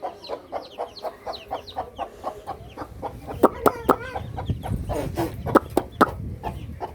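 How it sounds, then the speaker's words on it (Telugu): A mother hen and her small chicks cluck and peep close by in a backyard, rhythmic soft clucks joined by sharper chick cheeps and scattered rustling. "ఇదిగోండి పిల్లలు చూడడానికి ఎంత బాగున్నాయంటే పిల్లలు కోడి పిల్లలు"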